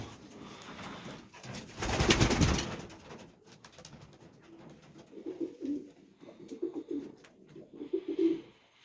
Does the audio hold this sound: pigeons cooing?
yes